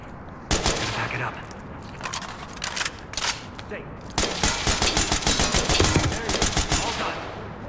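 Bursts of gunfire ring out in the tactical shooter Ready Or Not, with rapid sharp shots clustering in loud volleys, especially in the second half, amid ongoing game noise.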